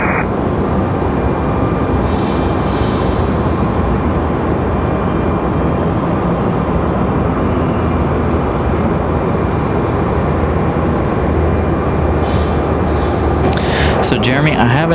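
An airliner arriving at Raleigh-Durham International Airport gives a loud, steady jet roar that fills the whole stretch without fading, joined by a brief rattly burst at the end.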